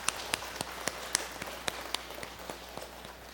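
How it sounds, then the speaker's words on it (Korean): A small Catholic congregation claps in welcome during a Sunday Lent Mass, giving a sparse run of scattered single claps in a reverberant church, fairly quiet and without voices. "여기 환영의 박수 부탁드립니다"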